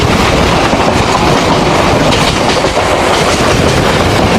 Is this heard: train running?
yes